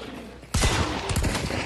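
A sudden burst of close gunfire breaks out in the Hunt: Showdown video game, a loud volley of rapid shots following a quiet moment.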